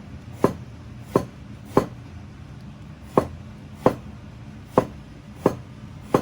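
A knife chops vegetables on a board in a home kitchen, eight sharp, evenly spaced strikes ringing out close and clear over quiet room tone.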